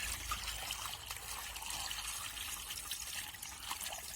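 Water trickles and splashes steadily over homemade butter made from cream as it is rinsed a final time, a soft, continuous, close pouring sound with no talk.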